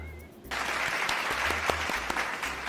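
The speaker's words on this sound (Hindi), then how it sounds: "तालियां होनी चाहिए" A studio audience at a talk show breaks into steady, dense clapping after a quiet half-second, sustained to the end with a few sharper claps standing out.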